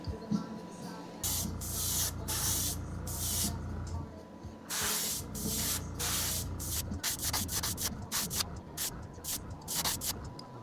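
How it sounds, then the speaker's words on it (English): Repeated short bursts of hissing spray paint onto a wooden fishing lure, some long and some quick, separated by brief pauses, close to the listener. "I'm just gonna spray right on the top and let it fade into the side."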